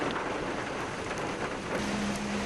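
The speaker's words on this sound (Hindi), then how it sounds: "तेज हवाओं और बारिश के चलते तापमान में गिरावट" Steady, dense rain is driven by strong winds, making a continuous broadband rush with no break or voices.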